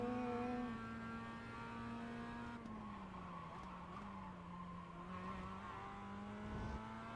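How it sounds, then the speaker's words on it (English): Racing car tires squeal under hard straight-line braking in a sim racing game, a loud sustained tonal screech over steady engine drone, wavering and sliding in pitch for several seconds. "Brake hard in a straight line. Get some heat in there. You can hear them just screaming."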